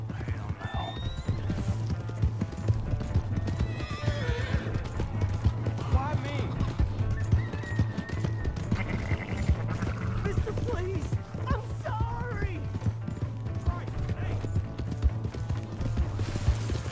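A horse in the Western open-world game Red Dead Redemption 2 gallops with rhythmic hoof clip-clops over a low rumbling bed, mixed with whinnies, shouts and other game sounds throughout.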